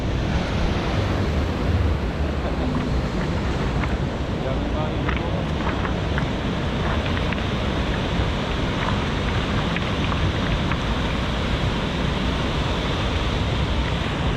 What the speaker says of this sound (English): the water breaks over it with the big waves